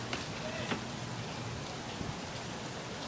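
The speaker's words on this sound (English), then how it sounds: "it's raining" Steady rain falls in a broad hiss outdoors, with a few faint drop-like ticks on top and no voices.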